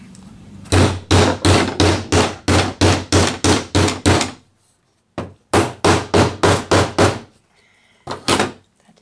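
Rapid, evenly spaced hammer blows joining lattice wood pieces, about a dozen in a row, a short pause, then another quick burst and a final pair of knocks.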